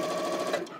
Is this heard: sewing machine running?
yes